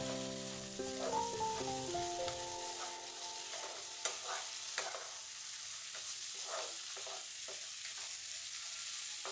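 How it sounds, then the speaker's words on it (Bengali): Green peas are stir-fried in a pan, with a soft continuous sizzle and a few light scrapes of the stirring utensil, faint and close. A brief tonal melody plays at the start. "এটাকে জাস্ট দু তিন মিনিটের জন্য একটু নেড়ে নিতে হবে"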